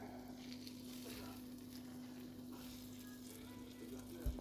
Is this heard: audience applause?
no